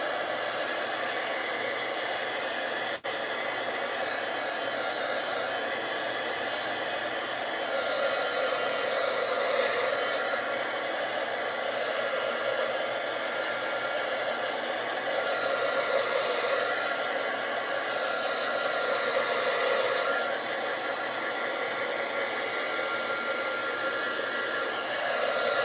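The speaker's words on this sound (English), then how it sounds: "I'm going to use my heat tool to melt it all up, melt it all together" A heat tool blows steadily at close range while it melts embossing material for a craft project, giving a continuous, loud whirring hiss that holds for the whole stretch and swells slightly midway, with no talking.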